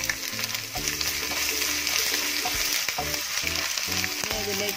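Chopped ginger frying in hot oil in a pan while cooking Kerala-style beef roast, a steady close sizzle with repeated stirring scrapes and clinks throughout.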